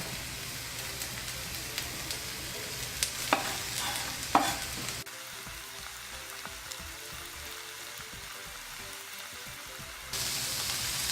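Chopped vegetables cook down in a hot pan for two-meat sloppy joes, with a quiet, steady sizzle and a few sharp spoon scrapes and clatters as the mix is stirred.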